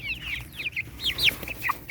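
Several chickens cluck in short, bright bursts, overlapping one another at close range on a roost in a chicken tractor, against a low background hum.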